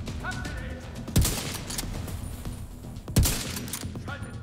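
Two separate heavy gunshots ring out about two seconds apart in The Division 2 Warlords of New York, each a sharp loud blast with a short decay, fired at an object against a steady background of game ambience.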